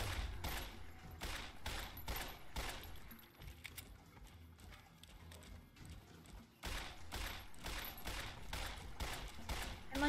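Repeated gunfire in Fallout New Vegas, faint bursts of shots in quick rhythmic volleys across the stretch, with brief pauses and some talk mixed in.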